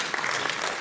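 A French-speaking audience at a civic ceremony breaks into warm applause, a short dense wash of many clapping hands, steady and moderately loud with no talk over it.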